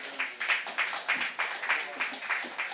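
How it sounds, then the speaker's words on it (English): An audience at a national culture and arts awards ceremony claps together in a steady, even beat, quiet and fairly distant, each clap landing a fraction of a second after the last. "Let's give a round of applause."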